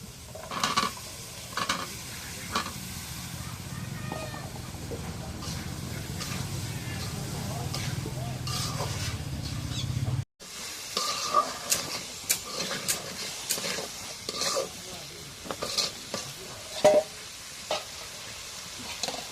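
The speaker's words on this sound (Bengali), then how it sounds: "এখন আলু রেখে দিয়ে একটু কষায় নিই" Potatoes stir-frying with spices in a pan, a steady sizzle under repeated scraping stirs, then after a cut sharper intermittent scrapes and clinks while a person talks.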